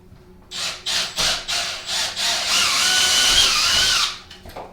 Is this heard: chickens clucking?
no